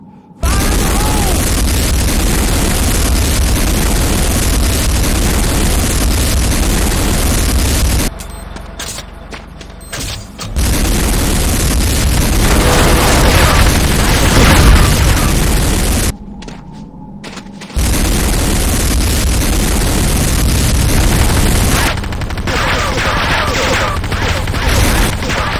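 Explosions and battle noise in the Command & Conquer game Renegade around a GDI Tiberium Refinery, a loud sustained roar of blasts and booms broken by a few brief lulls.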